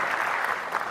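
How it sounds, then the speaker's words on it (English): Audience applause at Disrupt NY, a tech conference: a dense, steady wash of many hands clapping at once, loud and even throughout the brief moment. "Everybody, let's clap."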